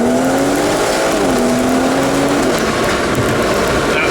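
A tuned 450bhp BMW M140i with Stage 2+ and M Performance parts accelerates hard on a closed private road, a steady engine drone climbing in pitch under heavy wind roar, loud and continuous with no talking.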